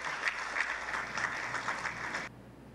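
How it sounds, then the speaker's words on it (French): An audience gives a short, fairly faint burst of dense clapping lasting about two seconds before it cuts off abruptly into a quiet room. "il mérite vos applaudissements"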